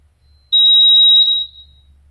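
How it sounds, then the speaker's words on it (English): A single loud, high-pitched electronic beep holds steady for under a second, then cuts off into near silence. "That loud beep."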